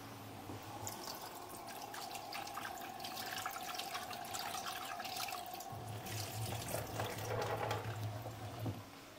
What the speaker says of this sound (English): Just quickly rinse the prawns too.